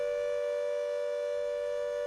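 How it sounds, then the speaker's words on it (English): A civil defense air raid siren wails over Warsaw, a single steady, piercing tone held for the whole stretch, loud and continuous with no other sounds. "We are hearing sirens over Warsaw."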